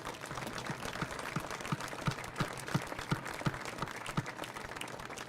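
Crowd applause for athletes after the gold medal match of the 2018 CISM World Women's Football Championship, Brazil vs South Korea, faint and distant steady clapping with a few sharper claps standing out.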